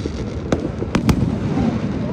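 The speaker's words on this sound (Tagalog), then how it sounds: "Enjoy the fireworks." New Year fireworks in Manila burst in a few sharp, booming cracks over a steady background hum, with voices murmuring underneath.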